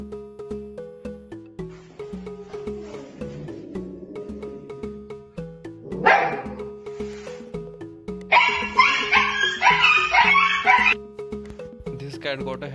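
A dog barks and yips at a cat in short, sharp bursts, mixed with some whimpering, over a steady backing of music.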